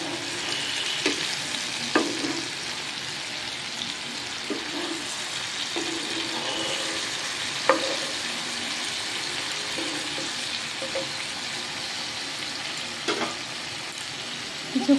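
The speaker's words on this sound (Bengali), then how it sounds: "এইভাবে খুব সুন্দরভাবে এটাকে ফ্রাই করে নেব।" A beaten egg mixture fries in a pan for an egg poach, giving a continuous close hiss and sizzle with occasional soft scrapes and taps from a spatula.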